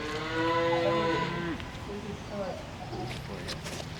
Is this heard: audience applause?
no